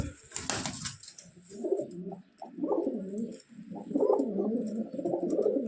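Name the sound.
caged Giribaz pigeons cooing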